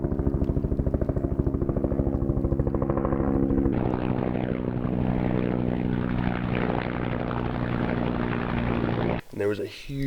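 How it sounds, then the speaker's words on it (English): A propeller airplane passes overhead above a lake near a large forest fire, giving a loud, steady droning hum with strong low tones that holds for several seconds before cutting away abruptly near the end. "So there's been choppers and planes going overhead, back and forth all day."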